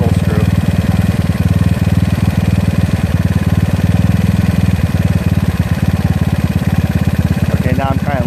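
A GY6 scooter engine with an OKO PWK 30mm carburetor under adjustment runs at a fast, steady, slightly shaky idle, close and loud, with a voice speaking briefly near the end.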